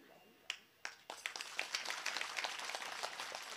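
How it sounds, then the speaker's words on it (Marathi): An audience at a Marathi kirtan begins clapping, a few scattered claps quickly swelling into steady, dense applause from many hands. "म्हणून टाळी वाजवा"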